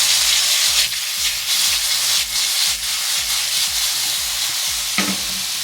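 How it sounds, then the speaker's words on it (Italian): Squid tufts sizzle loudly in a hot pan with garlic and chili, stirred and tossed in a steady scraping rhythm, the frying hiss continuous throughout. "Facciamo saltare velocemente i nostri ciuffi."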